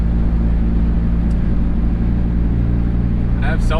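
Turbocharged Honda Accord engine droning steadily at low revs in fourth gear while driving, a loud constant rumble with a brief higher whine near the end.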